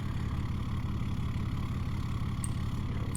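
Dodge pickup truck idling at a truck pull, a steady low, rumbling engine note that stays even throughout with no revving.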